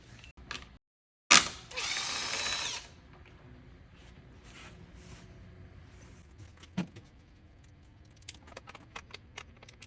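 A power drill tightens bolts on headlight brackets during a Norden 901 motorcycle light install, giving one loud, close whirring burst of about a second and a half, then quiet clicks and handling clatter.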